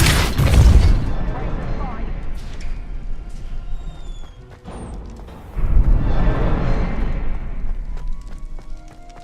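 A Depulso force spell blasts off in Hogwarts Legacy, a loud booming burst up front, then a softer rumble and a second heavy thud a few seconds later, with faint chimes over the game's ambience.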